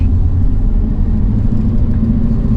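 A Mercedes 560SL cruises along with a steady, loud low engine rumble and road noise that stays constant throughout, with no talking.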